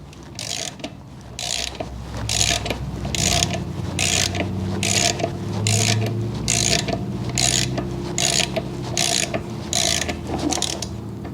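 Ratchet tightening a 13 mm socket on a universal joint of a 1999–2004 Mustang V6, about a dozen evenly spaced close clicks in a steady rhythm over a low mechanical hum.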